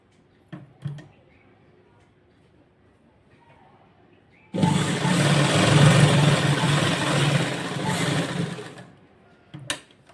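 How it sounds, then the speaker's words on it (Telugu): A sewing machine runs steadily for about four seconds, stitching blouse cloth, its close, loud whirring motor starting abruptly and stopping, with faint light handling noises before and after. "క్లాత్ అనేది కింద జరగకుండా ఇలా స్టిచ్ వేస్తున్నాను."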